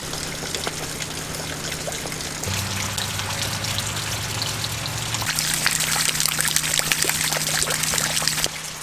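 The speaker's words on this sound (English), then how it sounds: "And the rain's kind of peaceful." Rain falls steadily around an early-1900s farmhouse porch, a continuous pattering and trickling wash with drips and runoff close by, alongside a low steady hum, with no talking.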